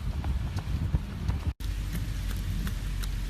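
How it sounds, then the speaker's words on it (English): Steady rain patters outside on a cold 44-degree day, a dense continuous hiss with scattered drop ticks and a brief cut partway through. "It's 44 degrees and it's nice and rainy outside."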